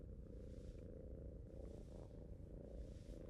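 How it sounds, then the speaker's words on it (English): Video game cat purring in The Evil Within DLC, a low, steady rumbling purr that continues evenly throughout, soft and close with no other sounds. "Listen to that purr"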